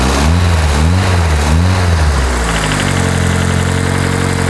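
A Mazda MX-5 with a hybrid turbo engine idles loud and close, its pulsing rumble wavering at first and then settling into a steady drone.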